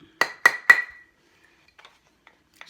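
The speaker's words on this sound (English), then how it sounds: "hit these tongs so they start forming to the mandrel and spreading apart." Metal sugar tongs are struck with a hammer against a bracelet mandrel: three sharp ringing metallic blows in quick succession, close and loud, followed by faint light taps.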